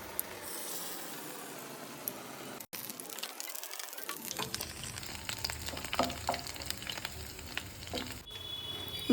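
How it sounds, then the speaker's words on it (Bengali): Pointed gourd fritters fry in white oil in a wok, a constant crackling sizzle that swells with a hissing surge as pieces are added, then settles into busy popping spatter, close and without talk. "এক এক করে এগুলোকে সব ভেজে নেব।"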